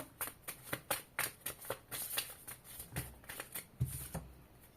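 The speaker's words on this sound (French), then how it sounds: "Allez, je tire une dernière carte." Cards are shuffled and one is drawn, giving a quiet, close series of soft riffling slaps and flicks in an irregular rhythm, with no talking.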